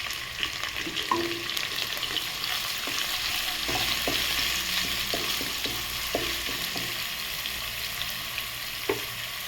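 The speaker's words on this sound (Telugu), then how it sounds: "అల్లం వెల్లుల్లి పేస్ట్ కూడా ఎలాగైతే వేగిందండి" Ginger garlic paste, curry leaves, cardamom and whole spices fry in hot oil for a chicken dish, a continuous close sizzle broken by spoon stirring taps against the pan.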